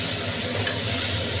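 Banana flower fried with coconut and a pinch of garam masala sizzles in a pan while being stirred, a steady, close, hissing fry without pauses.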